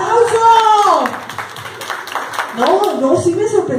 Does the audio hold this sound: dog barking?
no